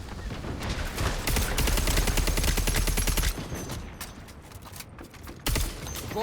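Gunfire and combat effects from the online shooter Concord surge in a dense, loud burst of rapid shots around a thrown smoke grenade, then ease to scattered pops and mechanical clatter with a sharp hit near the end.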